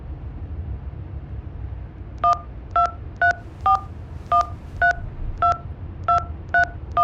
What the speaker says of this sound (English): Dial the number.